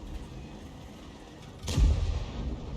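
A Bat.-Châtillon 155 58 self-propelled artillery gun fires in World of Tanks, a single deep boom about midway that rolls out into a low rumble.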